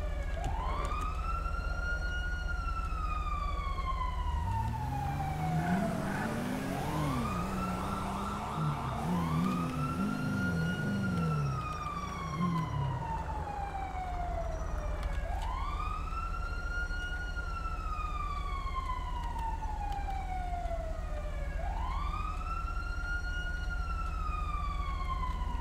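A police siren in GTA wails in long rising-and-falling sweeps, loud and close. A second, faster warbling siren briefly overlaps it midway.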